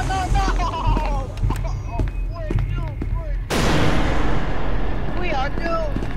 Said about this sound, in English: I accidentally throw a grenade inside the elevator.